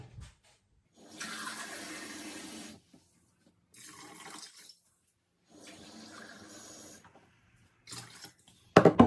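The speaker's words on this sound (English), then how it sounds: "And then we're also going to add 750 ml of cold water." About 750 ml of cold water is poured into a pot of Scotch broth in separate bursts of splashing and gushing, each lasting one to two seconds with quiet gaps between them.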